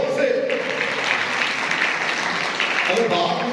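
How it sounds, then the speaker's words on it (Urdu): An audience at a New Year reflection sermon claps steadily and densely for several seconds, and a voice speaks over the applause. "پیچھے تالی بجائے ان کے لیے"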